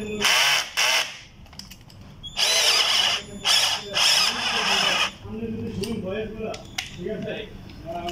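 A power drill cuts threads into a small metal hole, several loud whining bursts of varied length with short pauses between them, close by, while someone talks over the gaps.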